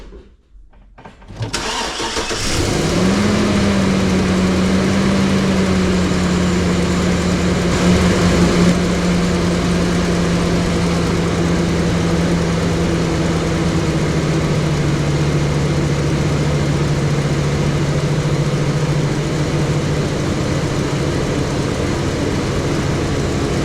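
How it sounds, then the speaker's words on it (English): A 2007-2014 Chevrolet Silverado engine cranks and catches, then settles into a steady, loud idle with a whining belt-driven tone that holds for the rest of the stretch, close by and without talk. "We're gonna go ahead and fire it up real quick and let it run"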